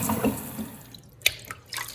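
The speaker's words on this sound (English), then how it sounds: "we are now rinsing off." Water runs and splashes in a sink as dyed Rambouillet fleece is rinsed, with a steady wash of flow and a few sharper splashy bursts near the end, close by and with no talking.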